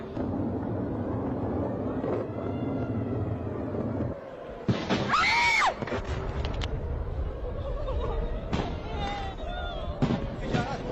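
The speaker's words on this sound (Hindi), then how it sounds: "तो ऐसे में आपने सुना किस तरह से धमाके की आवाज, जहां पूरा शहर दहल उठा है।" Loud booming blasts of Iranian missile strikes on Tel Aviv and rumbling crackle fill the scene, with a sharp burst mid-way and whistling sounds, amid continuous chaotic background noise.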